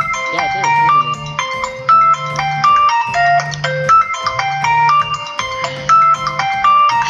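A phone ringtone sounds for an incoming call, a loud looping electronic melody with a repeating low tone pattern that plays steadily throughout.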